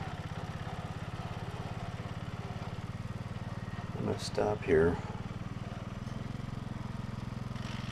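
A 1970 John Deere 110 lawn tractor engine runs steadily at close range with a continuous low droning hum, its variator drive and belt clutch misbehaving, while someone talks over it and a brief louder burst comes midway.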